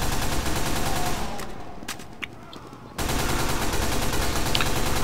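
Rapid automatic weapon fire in a class-based shooter video game, heard as a loud, dense stream of shots that drops out midway for about a second and a half, with a few faint clicks, then resumes at full volume.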